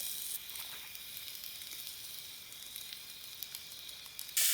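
Fish fries over an outdoor campfire by a forest creek, giving a continuous, even sizzle with fine crackling spits throughout and a brief louder flare at the end, with no voices.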